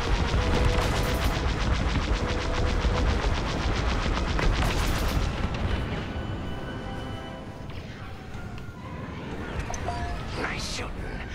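Starfighter weapons in the Star Wars: Squadrons space combat game fire in loud, rapid continuous bursts for several seconds, then give way to quieter scattered shots and zaps.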